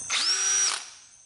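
A cordless power drill running on a rebuilt battery pack gives one brief, close whir that spins up quickly, holds a steady pitch and winds down within about a second.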